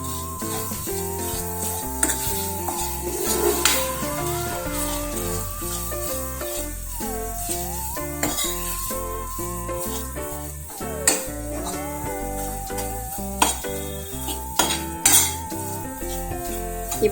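Jackfruit being mashed and stirred in a pan for kolukattai filling, with repeated metal spoon scrapes and clinks against the pan over steady background music.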